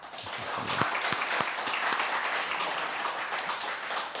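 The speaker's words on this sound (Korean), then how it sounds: "위로와 격려의 박수 하겠습니다" A congregation claps steadily for a recovering member during a Sunday church worship service, a dense, even wash of many hands with a few sharper claps standing out, filling the whole stretch at moderate level.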